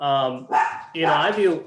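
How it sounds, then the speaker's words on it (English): A house dog barking at home during an online ceremony, a couple of loud close barks and yips in quick succession, with a voice speaking over them. "That was my dog, he want to participate."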